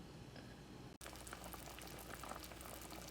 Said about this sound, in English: It's boiling and it's smelling really nice.